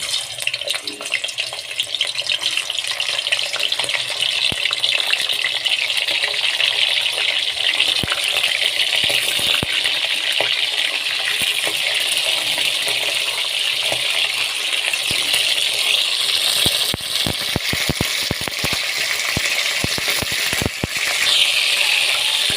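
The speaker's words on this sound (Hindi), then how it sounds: "ऑयल गर्म हो गया, अब इन पोटों को डालेंगे।" Chicken gizzards fry in hot oil for a Hindi-style pota recipe, giving a loud, continuous hiss with scattered crackles and a cluster of sharp clinks and pops toward the end.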